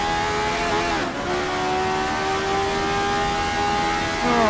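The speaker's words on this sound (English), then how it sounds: "Use the engine braking again, down the third." RSS Formula 79 race car in a VR racing game, its engine note dropping sharply as it downshifts under engine braking, then holding a steady high whine, loud and continuous with no talk.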